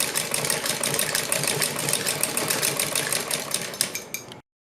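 An electric sewing machine runs steadily while stitching a folded hem strip on a salwar cuff, its quick rhythmic needle clatter close and continuous before stopping abruptly near the end.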